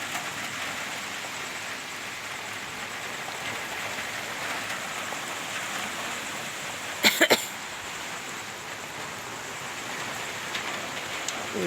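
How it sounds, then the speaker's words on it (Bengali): Steady rain hisses evenly throughout, with a brief cluster of sharp knocks partway through. "বৃষ্টি।"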